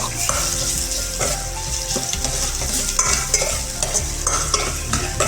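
Ginger browning in a hot pan for chicken tinola, a steady loud sizzle with scraping stirs and occasional utensil clinks, close and continuous with no talking.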